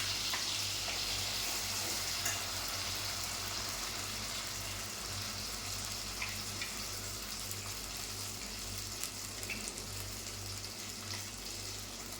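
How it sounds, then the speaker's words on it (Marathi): Masala paste sautéing in hot oil in a pan gives a steady, continuous sizzle and hiss at close range, even throughout with occasional small crackles and no talking. "आता मी हा सगळा मसाला यामध्ये टाकून घेतलेला आहे तेलामध्ये आणि मसाला चांगला परतून घ्यायचा आपल्याला"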